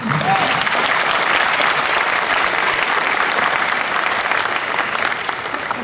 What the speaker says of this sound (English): I'll clap for that even now.